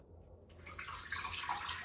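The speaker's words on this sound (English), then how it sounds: "add 295 milliliters of water to my KitchenAid bowl" Water pours steadily into a KitchenAid mixer bowl, a bright splashing stream starting abruptly after a brief quiet moment and continuing close up without talk.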